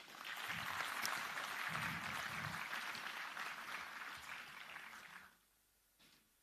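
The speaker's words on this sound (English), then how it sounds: "Heartily welcome to all of them with a huge round of applause" Audience applause welcoming dignitaries at a conference on creating wealth through markets, a full even clatter of many hands that fades out and stops near the end, leaving near silence.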